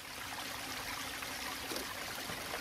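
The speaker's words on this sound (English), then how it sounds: "This waterfall." Steady rushing and splashing of falling water, a small cascade heard close by with an even, continuous wash and no voices.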